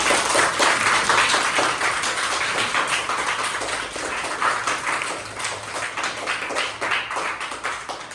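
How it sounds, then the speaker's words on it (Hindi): Schoolchildren clap loudly together for their teacher at a Gandhi Jayanti social-message event, a dense, sustained burst of applause filling the whole stretch and tapering slightly toward the end. "एक बार मैम के लिए जोरदार तालियां हो जाए"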